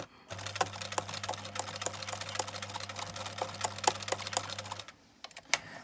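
A sewing machine stitches a small fabric pouch, running in a fast, steady mechanical chatter with a low motor hum for several seconds, then stops abruptly, close to the microphone.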